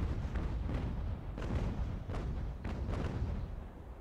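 Sailing warships in the Ultimate Admiral: Age of Sail video game, set in the Barbary War, fire a broadside. Heavy cannon booms come in an uneven rolling series, some overlapping, over a dense rumbling background.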